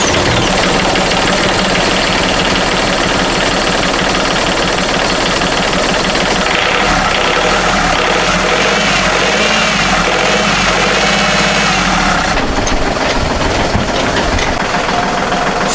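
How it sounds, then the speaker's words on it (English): A Yanmar boat engine idles loudly and steadily during a small engine service, with a rough knocking chug that continues throughout without pauses or voices. "when doing a small engine service like this, the first thing you do is basically to just start it up"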